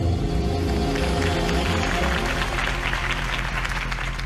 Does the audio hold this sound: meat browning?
no